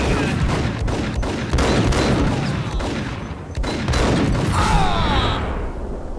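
Dense, loud gunfire fills a shootout in the video game Max Payne, with rapid overlapping shots and bursts running nonstop, close up and harsh, with a brief lull midway.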